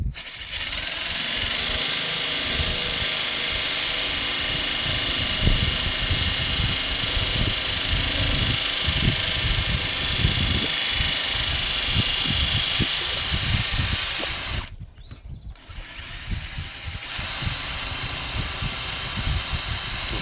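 A power drill whines and grinds steadily through a composite laminate worktop for a long stretch, loud and close, briefly easing off midway before resuming.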